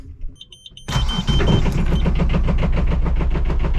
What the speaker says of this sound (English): so I'm just going to switch the engine on